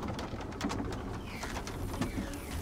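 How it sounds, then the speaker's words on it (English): A bird calls within the God of War video game soundscape, soft cooing notes mixed among ambient game noise and faint movement sounds. "I heard a bird."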